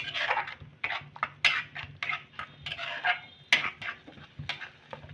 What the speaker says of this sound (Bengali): এক থেকে 2 মিনিটের মতন একটু আমি নেড়ে নেব।